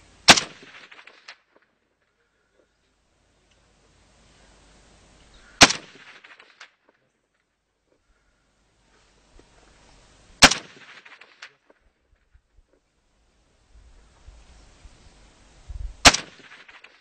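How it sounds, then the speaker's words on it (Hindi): A light machine gun fired in semi-automatic mode on a firing range, four single loud shots spaced several seconds apart, each with a sharp crack and a short echoing tail, with quiet between. "ये गन को मैंने सेफ्टी सेलेक्टर स्विचेस का हटाया, इसको सेमी ऑटोमेटिक मोड पे किया।"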